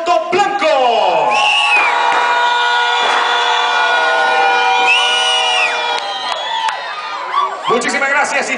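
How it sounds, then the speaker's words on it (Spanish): A crowd at a car audio contest cheers, whoops and shouts for a white car, loud and sustained, with an amplified announcer speaking over the noise. "Me van a levantar los brazos y gritar por el auto blanco."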